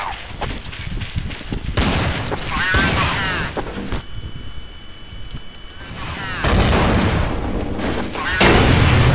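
Gunshots in Counter-Strike: Source, loud rifle bursts and bangs arriving in several separate clusters with quieter stretches between them, close and sharp.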